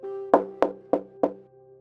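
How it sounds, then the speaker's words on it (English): Four sharp, evenly spaced knocks ring out close and alone during a midnight ritual game in a horror story, each leaving a brief resonant ring before fading into quiet. "After the knock, nothing happened."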